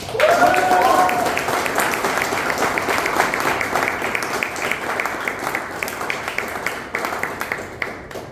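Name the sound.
audience applause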